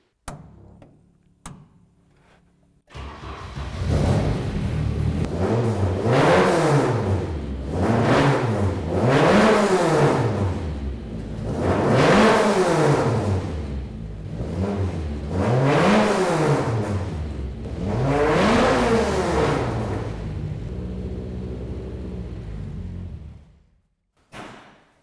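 A car engine cranks and catches, then revs up and down in about five steady, rising-and-falling surges at close range before cutting off.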